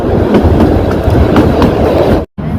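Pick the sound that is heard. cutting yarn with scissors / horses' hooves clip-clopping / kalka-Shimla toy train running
kalka-Shimla toy train running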